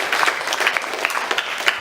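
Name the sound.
applause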